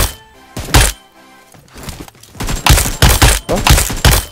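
Repeated AK rifle shots in PUBG Mobile, loud and close, fired in short bursts of single cracks with brief pauses between, no talking.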